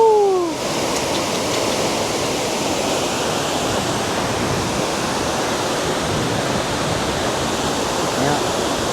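Kuang Si waterfall in Laos roars with a loud, steady rush of falling water that fills the whole scene without a break, close by and constant.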